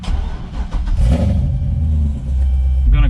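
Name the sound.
C6 Corvette engine with Vararam cold air intake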